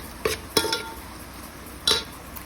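A utensil clinks against a pot while whole spices, including pepper and cardamom, roast for Goan pulao: three sharp metallic taps spaced over a couple of seconds, near and moderately loud, with no voices.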